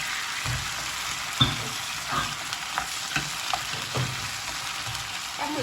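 Squid stir-fried with pounded shrimp-paste seasoning, loud close sizzling over a constant hiss with regular scraping stirs of a spatula in the pan, and no voices.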